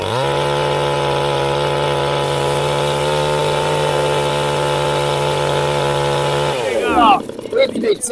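A Neotec NCS 6200A chainsaw, new out of the box and running without a load, holds a loud, steady high-pitched buzz at full throttle for several seconds, then drops off sharply. Handling noises follow near the end.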